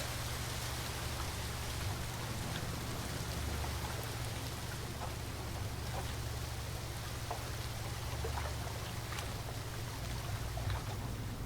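A continuous low rush of falling water from a waterfall in the video game The Mansion, faint and even, with a soft spattering texture and no other sounds standing out.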